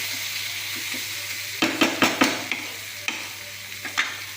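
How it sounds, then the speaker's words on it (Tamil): Chilli powder being stirred into a Chettinad prawn gravy as it fries in a pan, a steady sizzle broken by a run of sharp spoon scrapes and knocks against the pan, close and clear with no talking. "இதிலே கொஞ்சம் கலக்கி கலக்கி கீழே அடி பிடிச்சி அதிகம் கலந்து கலந்து வச்சிடலாம்"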